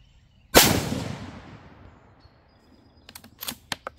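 A Savage Axis II heavy-barrel rifle fires a single loud, close shot of Hornady 6mm ARC, its boom ringing out and fading over about a second, followed by several sharp mechanical clicks of the bolt.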